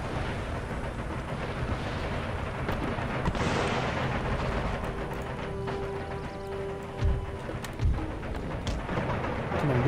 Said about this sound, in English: Mortars are doing their wicked way, having their wicked way with my troops.